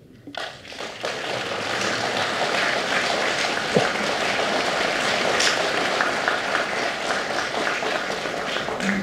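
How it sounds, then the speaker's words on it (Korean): An audience in a high school hall applauds at a book launch ceremony marking a 1,000th newspaper column. The clapping swells in after a brief pause and holds a dense, steady roar of many hands for about nine seconds. "박수 한번 보내주시오."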